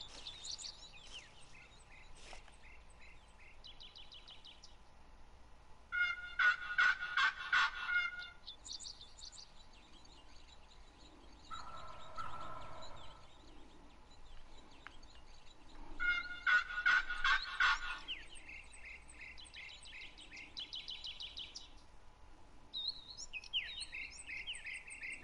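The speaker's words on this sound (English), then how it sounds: "Where are these wild turkeys that attack you?" Wild turkeys in the Wild Turkey Hunter video game gobble in loud rattling bursts, first near the start, then twice more strongly, with quieter game bird chirps and calls between them.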